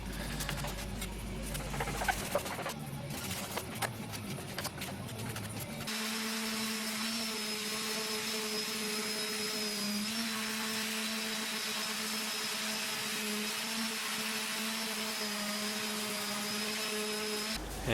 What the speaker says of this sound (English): And then after that, I just ran the orbital sander over it.